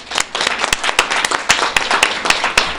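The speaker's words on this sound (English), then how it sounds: "and so I'd like to give them a round of applause." A small audience at a school board meeting claps for students, with sparse, distinct hand claps forming a short, uneven round of applause in a room.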